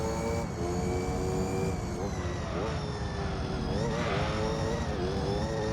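A Gran Turismo 3 race car engine drones steadily at high revs, then its pitch sags and wavers as the throttle is dropped, loud and continuous throughout.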